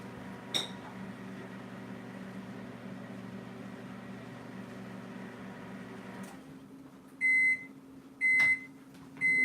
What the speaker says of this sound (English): It's now in the microwave, just to make the wax a bit softer.